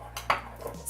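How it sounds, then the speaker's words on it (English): A fork mashing seasoned avocado against the sides of a bowl while making avocado toast, giving short, close scraping and clinking taps of metal on the bowl, with a couple of distinct hits in under a second. "I'm just taking a fork and mashing it up against the sides of the bowls"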